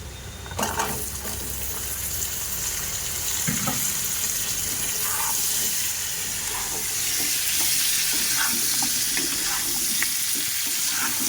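Vegetables tossed into a frying pan with prawns and browned onions for a pumpkin prawn curry, a loud hiss of frying that swells and keeps steady, with a few clatters of stirring and no talk.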